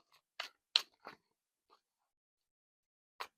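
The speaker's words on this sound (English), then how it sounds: "2 more shuffles." Tarot cards shuffled by hand in a quiet room, a few short, crisp riffles and snaps spread out with silent gaps between them, close and fairly soft.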